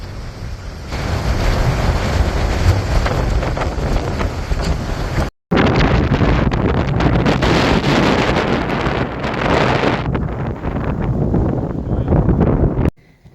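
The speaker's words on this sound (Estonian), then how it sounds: "Natuke puhub." Strong wind buffets the microphone with a loud, continuous roar that cuts out briefly midway, then resumes and fades near the end, somewhere on the coast of Croatia.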